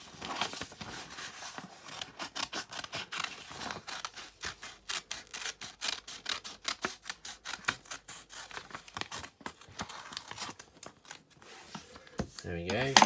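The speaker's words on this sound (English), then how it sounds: "once we've cut out our butterfly" Scissors cutting a butterfly shape out of folded paper, with a steady run of close, crisp snips and paper rustle that quickens in the middle before slowing near the end.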